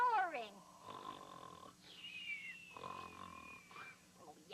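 A puppet owl's snoring in a children's TV show, drawn-out wheezing snores repeating in slow cycles with squeaky whistling tones, close and clear, voiced by a performer imitating the sound.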